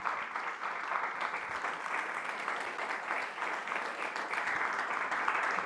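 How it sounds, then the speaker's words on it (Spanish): Applause at the proclamation of the La Verdellada patron saint festival, a large crowd clapping in a steady, continuous wash that holds its level for several seconds, heard from within the audience with no speech over it. "Gracias a todos y con este aplauso."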